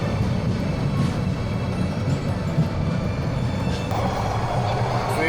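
Heard from inside a carriage, a Cox's Bazar to Dhaka train passes through a tunnel with a loud, unbroken low rumble and roar that stays steady throughout.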